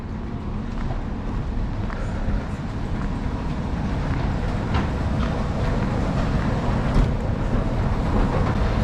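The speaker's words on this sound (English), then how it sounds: "it's time to give the metro a go" A Sydney driverless metro train running underground, heard as a steady loud rumble and rolling rail noise with faint clicks, continuous for several seconds.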